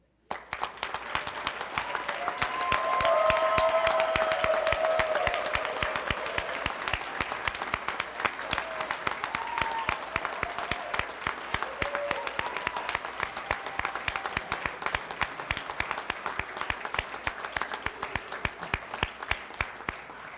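A large crowd applauds Special Olympics athletes at a New Mexico Law Enforcement Torch Run event; sustained, rhythmic clapping swells after a moment and carries on steadily for about twenty seconds, with faint voices mixed in.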